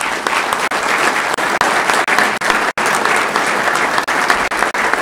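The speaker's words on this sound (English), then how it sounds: "would you join with me in giving them all a round of applause" An audience gives a sustained, loud round of applause for newly sworn-in Weber County elected officials at a swearing-in ceremony, the dense clapping running steadily throughout.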